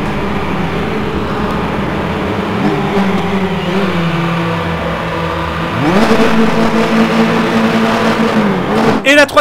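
Race cars launch off the grid at Nürburgring in the Raceroom racing game, with engines rising in pitch through revving gear changes. A second surge of acceleration comes midway, and talk runs over the engine noise.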